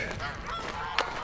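Several geese honk in a short burst, loud and close, with one sharper honk standing out near the end.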